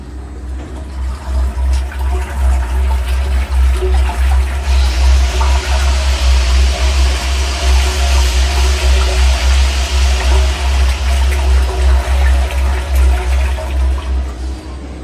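A VME-100L vacuum emulsifying mixer runs with a loud, steady churning drone and a deep low hum, its whooshing liquid texture pulsing slightly throughout without pause.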